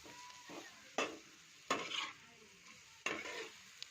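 Onions with turmeric fry in a pan at a quiet, steady sizzle, broken by three or four sharp clacks of a spoon stirring against the metal, with no one speaking.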